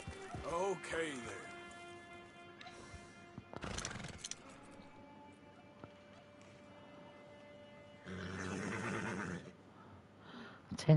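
A horse neighs and whinnies in the video game Red Dead Redemption 2, sharp calls rising and falling, with bursts of other game sounds and quiet stretches between them.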